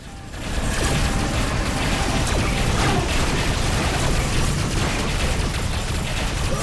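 Broadside cannon volleys from a spaceship in the game Rebel Galaxy roar in a dense, continuous barrage of rapid blasts, loud and sustained without pause.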